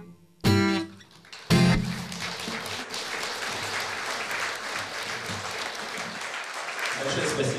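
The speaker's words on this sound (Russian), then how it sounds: "Большое спасибо за аплодисменты" A concert audience applauds in a steady wash of clapping that continues for several seconds after two loud bursts of music or sound at the start.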